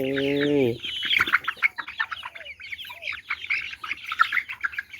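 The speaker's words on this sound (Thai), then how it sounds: "อันนี้อยู่ในคอกไก่นะคะเอา แหนแดงให้ไก่กินนะคะ" Chickens in a coop cluck and chirp busily while being fed red duckweed, a dense run of close, overlapping calls after a short tonal sound at the start.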